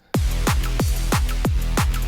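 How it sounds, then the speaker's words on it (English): A heavy, steady beat of booming bass drum hits with deep bass tones and bright cymbal or snare accents, repeating about every third of a second. "So bass and drums sounds like this."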